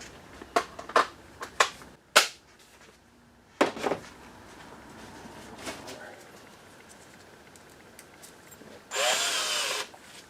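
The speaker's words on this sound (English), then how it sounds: "Is it screw drill time?" Power drill driving Turbo hardware screws into a racing sidecar, heard as a few short sharp bursts early on, then a longer steady whir near the end, close by with quiet talk between.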